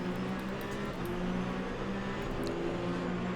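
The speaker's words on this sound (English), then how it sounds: "Overwhelmed by the sound of all of these cars, heading towards turn 1" Race cars of the Porsche Penske and Cadillac kind surge together toward turn 1 at the start of a Le Mans Ultimate race, a continuous dense roar of many engines droning at steady loudness.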